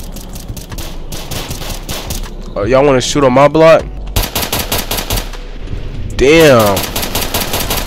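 Roblox South Bronx The Trenches gunfire, bursts of rapid automatic shots repeating loudly in several volleys, interrupted by someone talking and a brief gap of near silence.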